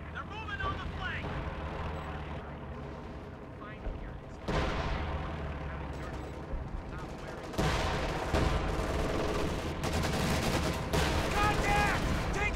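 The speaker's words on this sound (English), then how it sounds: "Contact! Taking hostile fire." Dense, continuous gunfire and explosions from a strategy video game battle involving the OKW faction, with heavy overlapping shots and blasts growing louder partway through, and game voices under the din.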